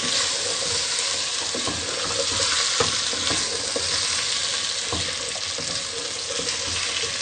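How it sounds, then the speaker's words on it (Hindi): Cauliflower stalks sautéing and being stirred in a pan for aloo gobhi with carrots and peas, giving a steady broadband sizzle with scattered scraping clicks of a spoon against the pan. "अब हम इसको अच्छे तरीके से ये भूनेंगे।"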